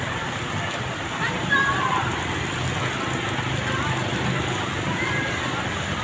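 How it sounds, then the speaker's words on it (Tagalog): Heavy rain pours steadily over a flooded street in Commonwealth, a dense continuous wash of hiss and splatter, with a voice talking over it. "Ganun, katindi nung ulan na to."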